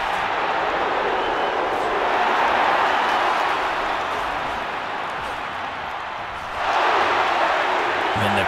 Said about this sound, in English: Crowd noises are a little overdoing it.